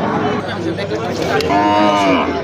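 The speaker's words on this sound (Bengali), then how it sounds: "অনেক গরু আসছে" Cattle mooing at a crowded local cattle market in Gazipur, Bangladesh, with long low calls over steady crowd murmur and some chatter.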